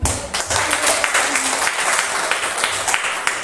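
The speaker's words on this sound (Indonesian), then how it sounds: "Kita beri tepuk tangan dulu." A room full of people applauds, steady dense clapping that stays loud and close throughout.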